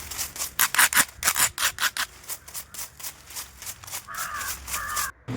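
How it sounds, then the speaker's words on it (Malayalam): A blunt knife scrapes down a coconut leaf-rib broom in a rapid series of rough rasping strokes, close and fairly loud, with a few squeaky scrapes near the end. "അധികം മൂർച്ചയില്ലാത്ത കത്തി കൊണ്ട് ഈ ബലമില്ലാത്ത ഓലയെല്ലാം പൊഴിഞ്ഞു പോകത്തക്ക വിധം രാഗി കൊടുക്കാം"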